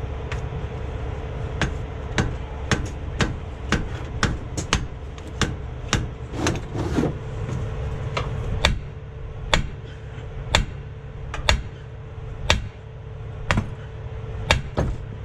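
A big wrench strikes a lodged starter on a Freightliner truck again and again, sharp metallic hits arriving about every half second to second over a steady low engine drone, some blows louder than others.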